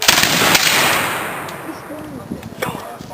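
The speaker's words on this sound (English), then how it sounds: "And that's our firing demonstration." Musket volley fired by a line of shooters during a historical firing demonstration, a single loud, close crack that rolls off into a long fading echo, with faint voices afterward.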